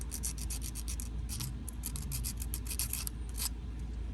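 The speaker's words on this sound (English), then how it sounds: "I'm gonna lightly sand it down" Rapid scratchy rubbing strokes of lightly sanding a drilled action figure, close up, in quick repeated bursts over a low background hum.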